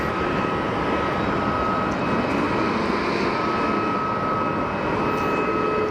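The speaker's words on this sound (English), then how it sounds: "Meanwhile, a Neo taxiing in the background." An Airbus A320neo jet taxis at Geneva Airport with a steady, loud engine roar and a whine. The sound is continuous and constant for the whole stretch.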